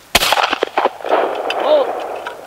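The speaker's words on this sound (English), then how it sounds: "There's two rounds coming through the Browning Citori." A Browning Citori CX over-under shotgun firing, a sharp loud blast up close followed by rolling echoes and a fading rumble as the report dies away.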